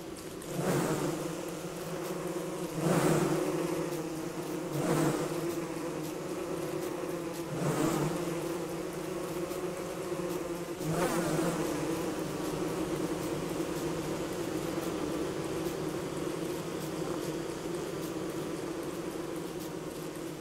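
Bees in the game Don't Starve hum in a constant, close swarm at night, with soft recurring swells over the steady drone.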